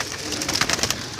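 Pigeons coo several times at close range, soft repeated calls against a light background hiss with no voices.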